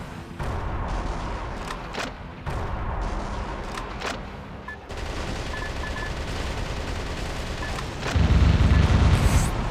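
Enemy minigun fire in the space shooter Yars Recharged rattles in continuous bursts mixed with booming impacts, swelling into a louder, heavier barrage toward the end.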